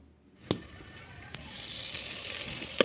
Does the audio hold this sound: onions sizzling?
yes